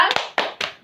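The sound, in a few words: class doing the thumb clap (tepuk jempol)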